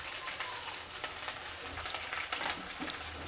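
Chopped green chillies hit hot oil in a pan while cooking a soybean curry, giving a steady, close crackling sizzle with fine popping throughout and no voices.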